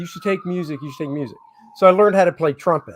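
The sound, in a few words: sirens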